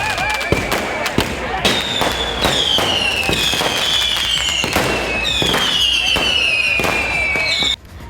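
Fireworks burst at the Kachabeswarar temple festival in Kanchipuram as the silver chariot passes, a dense, steady crackle of loud bangs layered with rising whistles, close and continuous until an abrupt stop.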